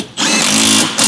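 A power tool, likely an impact driver, tightens the upper shock bolt on a 2024 Jeep Wrangler Rubicon JL 392 fitted with Bilstein 8100 shocks, giving one loud, steady whirring burst close to the microphone.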